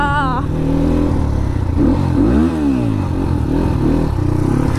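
A Crossfire motorcycle engine hums close and loud while riding, its tone rising and falling in one clear rev sweep midway, with a steady drone throughout.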